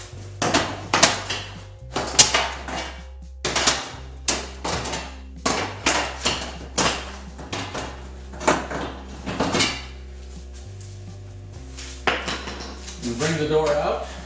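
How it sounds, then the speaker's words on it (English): Garage door rollers being popped out of their track with the door down, giving a series of sharp metallic clunks, rattles and knocks that come close by in irregular bursts, with no talking. "I'm simply going to pop out the next 3 rollers and replace them."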